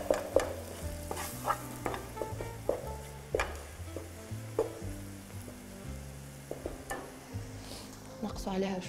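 Milk being stirred into butter and flour in a pan for a crepe lasagne, with repeated knocks and scrapes of a utensil against the pan over a low bubbling sizzle, close and uneven in rhythm.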